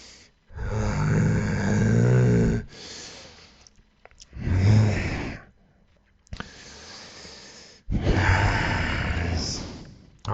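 A man breathes heavily in long, loud, exaggerated breaths, several drawn-out inhales and exhales with short pauses between, close to the microphone.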